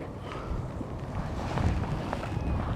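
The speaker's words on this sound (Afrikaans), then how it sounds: "nou met hierdie wind wat so waai en die reën" Wind blowing hard with rain outdoors by a dam while fishing, a steady rough roar buffeting the microphone throughout, loud and close with no talk.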